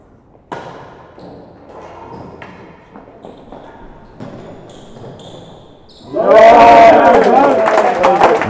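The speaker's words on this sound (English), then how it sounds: "there's a bit of noise from the crowd" At a junior world championship final of real tennis (jeu de paume), ball strikes and thuds echo in the indoor court before the crowd erupts in loud, sustained cheering and applause.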